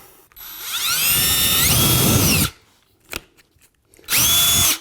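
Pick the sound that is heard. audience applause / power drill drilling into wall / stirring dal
power drill drilling into wall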